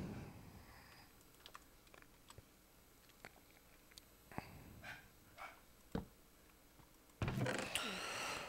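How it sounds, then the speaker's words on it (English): A dog barks a few times in a quiet indoor room, short separate yelps mixed with soft clicking like keyboard typing, closing with a louder burst of noise. "Sorry about the dog."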